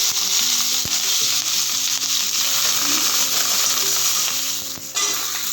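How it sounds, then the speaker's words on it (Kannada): Loud, steady sizzling of curry leaves, garlic and Byadgi chillies frying in hot oil for a dal sambar tempering, continuous and close, with occasional light taps of a utensil. "ಕರಿಬೇವು ಬೆಳ್ಳುಳ್ಳಿ ಬ್ಯಾಡಗಿ ಸ್ವಲ್ಪ ಚೆನ್ನಾಗಿ ಫ್ರೈ ಆಗಲಿಪ್ಪ ಒಗ್ಗರಣೆಯಲ್ಲಿ"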